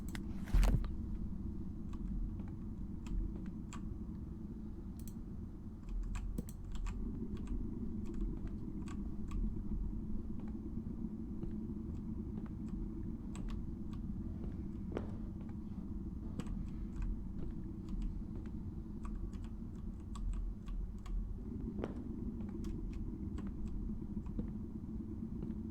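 Keys tap away on a computer keyboard, sparse and soft clicks spread over a long stretch above a steady low rumble, with no voices.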